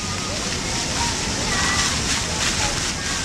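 Children splashing and playing in a public water fountain in Seoul during summer, a steady continuous wash of sloshing, spraying water, fairly loud and close, with voices mixed in throughout.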